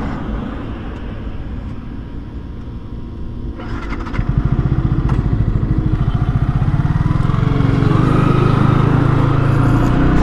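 A Yamaha R15 V3 motorcycle, Indonesian variant, pulls hard toward top speed, its engine note rising loud and close. The revs build steadily into a strong, sustained high-pitched wail over continuous wind and road roar, with no talk.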